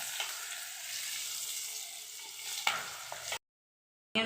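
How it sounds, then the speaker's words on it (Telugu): Garam masala spices and green chillies frying over a medium flame until brown, giving a steady close hiss and sizzle with one sharp stir clink, then a short silent gap before the sizzle returns. "బ్రౌన్ కలర్ వచ్చేవరకు వేయించుకోవాలి మీడియం ఫ్లేమ్లో పెట్టుకొని"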